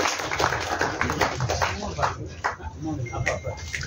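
Audience clapping at a Tamil film trailer launch for the movie Bhai, a dense broadband patter of hands heard under and alongside a voice over a loudspeaker.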